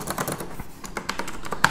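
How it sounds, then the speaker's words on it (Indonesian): Logitech G610 keyboard with Cherry MX Blue clicky switches, typed in a quick, uneven run of sharp, close clicks with no voices. "Switch Blue ini yang pasti suaranya clicky banget kayak gini"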